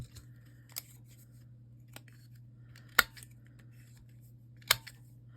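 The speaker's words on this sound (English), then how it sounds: "I just have the punch, so I'm going to use that." A paper corner punch rounds the corners of junk journal paper, giving a few sharp isolated clicks and snaps spaced a second or more apart over a quiet steady hum.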